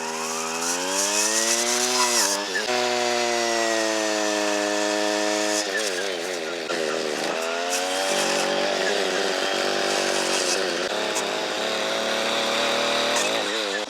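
String trimmer fitted with a Forester brush cutter blade cutting through a 1.5 to 2-inch tree limb: a loud, close two-stroke engine whines at high revs, bogs and dips under load, then revs back up, running throughout.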